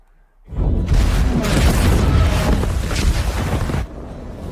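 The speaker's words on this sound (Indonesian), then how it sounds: "Fred kemudian muncul dari dalam laut dan mengatakan kalau peledaknya sudah dia pasang di kapal. Dan boom!" Explosives planted on a ship detonate in a war film about a secret mission against the Nazis. A deep, roaring blast swells in suddenly after a quiet moment and rumbles loudly for about three seconds before cutting back to low ambience.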